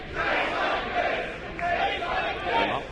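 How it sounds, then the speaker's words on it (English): Wrestling arena crowd chanting together in a loud, rhythmic swell that rises and falls over a few seconds, filling the space with massed voices. "Well, you hear the chants there."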